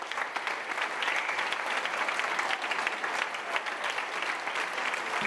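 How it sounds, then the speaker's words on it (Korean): A concert audience gives a pianist a standing ovation, with dense, sustained clapping holding at a steady level throughout, loud and continuous with no voices breaking through. "기립박수가 나온 것이다."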